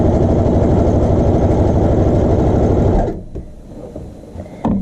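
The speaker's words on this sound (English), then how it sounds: "you're sewing on the inside on the wrong side of the fabric" A sewing machine stitches a child's shorts hem with a fast, even rhythmic chatter, loud and close, running for about three seconds before stopping, followed by faint handling clicks.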